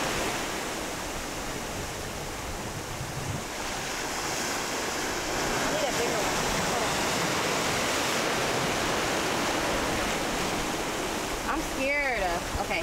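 Waves wash steadily over beach rocks in a loud, continuous rush of surf that swells slightly midway, with a brief voice near the end.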